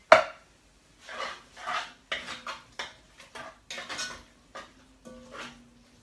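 Chopped tomatoes are stirred into a curry pot, giving a series of close metallic scrapes and clinks of a spoon against the pot in uneven strokes, with no talk.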